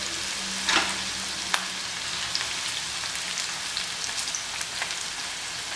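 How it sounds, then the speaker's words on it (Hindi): Onions dropped into hot oil for chicken biryani fry with a steady, fine crackling sizzle, brief louder spatters early on, then an even hiss with scattered pops. "हमारे तेल जो है गर्म हो चुका है। इसके अंदर हमने प्याज डाल दिए हैं।"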